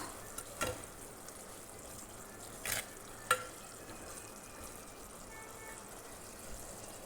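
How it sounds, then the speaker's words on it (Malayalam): Tamarind water simmering in a pan for Kerala onion theeyal gives a faint, soft bubbling hiss, broken by a few brief clinks of a utensil against the pan. "പുളിയെല്ലാം തിളച്ചിട്ടുണ്ട് നന്നായിട്ട്"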